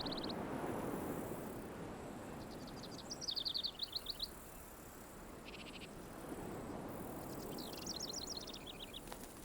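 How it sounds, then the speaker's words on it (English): Small birds on Santa Catalina Island in the Gulf of California chirp in scattered quick trills and twitters, moderately distant, over a constant hiss of wind or surf with insect-like buzzing. "The island teems with small birds."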